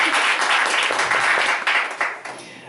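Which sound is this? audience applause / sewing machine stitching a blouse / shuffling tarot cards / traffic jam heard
audience applause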